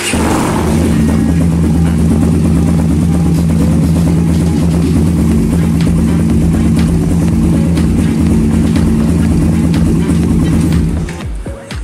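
A used Suzuki Satria FU motorcycle engine starts up and settles into a loud, steady idle, a close rumbling drone that holds evenly before cutting off at the end.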